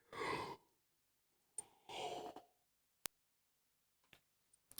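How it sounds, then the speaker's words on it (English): A single drawn-out yawn with a breathy rush of air, close and fairly loud, followed by a second softer exhale and a few faint clicks in an otherwise quiet room. "Apologies about that yawn."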